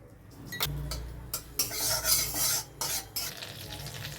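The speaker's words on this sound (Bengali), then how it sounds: "কড়াই গরম হয়ে গেছে, 1 চামচ বাটার দিয়ে আমি মাশরুমগুলো একটু ভেজে নেব।" Mushrooms frying in butter in a kadai, close crackling sizzle with repeated scraping strokes of a spatula and a brief low thud, no speech.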